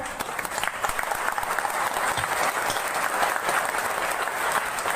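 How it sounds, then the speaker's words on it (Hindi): An audience stands and claps together at a workers' union meeting in Rajgir, producing dense, steady, loud applause for the full five seconds with no break. "एक बार खड़े होकर एक साथ सब मिलकर ताली बजाएं।"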